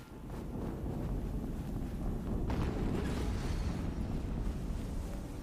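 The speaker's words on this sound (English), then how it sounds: "Another explosion." A loud explosion in the video game Horizon Zero Dawn, a dense low rumble that swells and holds steady for several seconds with a wind-like roar.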